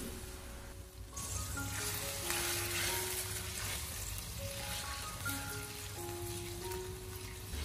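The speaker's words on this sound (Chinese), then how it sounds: "然后再往锅里面添加适量的清水" Water poured into a hot wok, just after a splash of cooking wine, while tofu and minced meat cook: a steady, even hiss and sizzle under soft background music.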